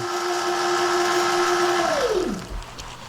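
A steady whirring electric motor hum from a Sur-Ron Ultra Bee electric motorbike spinning during controller encoding, with a high whine that winds down in pitch near the end, followed by a softer rumble.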